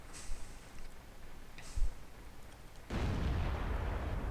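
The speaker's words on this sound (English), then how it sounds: "Then the second artillery shoots, gets the kill." Artillery shells exploding in the World of Tanks game: a low booming blast at about 1.8 seconds, then a heavier rumbling detonation that rolls on steadily through the end, with faint earlier pops in the distance.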